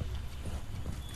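Horse hooves galloping in Assassin's Creed: Brotherhood, a quick rhythmic clip-clop of repeated hoofbeats, faint and continuous under background ambience.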